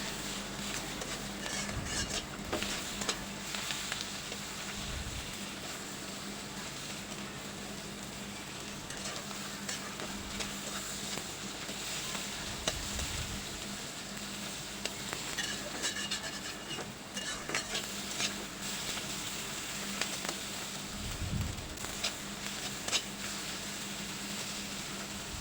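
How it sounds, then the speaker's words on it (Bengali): Boiled potato pieces with turmeric and salt being sautéed and stirred in a pan, giving a steady low sizzle with scraping stir strokes throughout, no voices. "এবার আমি হলুদ দিয়ে দেব ও লবণ দিয়ে দেব। এবার ভালো করে কষিয়ে নেব।"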